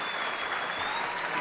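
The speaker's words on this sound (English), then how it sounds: "give all three of them a round of applause" Steady, full applause from a large summit audience fills the whole moment with dense, even clapping and no pauses.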